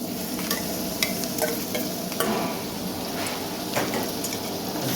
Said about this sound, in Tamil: நல்லா வதக்கணும். வேற வேக வைக்கக்கூடாது, சும்மா லைட்டாக வதக்கணும்.